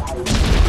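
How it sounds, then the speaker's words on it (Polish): A rapid burst of gunfire from the futuristic racing video game Flashout 3D, loud and dense, crackling briefly under a faint voice. "to myślałem, że to rakieta, a to były strzały"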